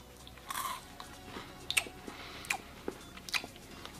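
Someone bites into a strawberry Kit Kat, giving a few close, quiet crunchy snaps and chewing crackles spaced across a few seconds.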